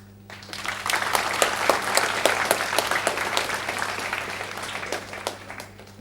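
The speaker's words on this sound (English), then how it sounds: "I'd like to have an applause for Delegates" An audience in a general assembly hall at a Model UN closing ceremony applauds the delegates, dense clapping swelling quickly and then slowly thinning out over several seconds, beneath a constant low hum.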